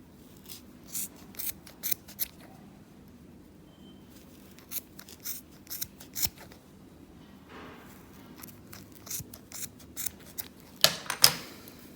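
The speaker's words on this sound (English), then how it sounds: "Cut with scissor from the middle." Scissors snip through yarn threads for a pom-pom in a series of sharp, separate cuts spaced a second or two apart, close and alone, with a louder flurry of snips near the end.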